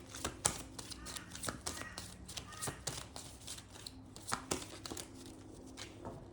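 Tarot cards are shuffled with quick, irregular riffling snaps and soft rustling, close by and fairly quiet.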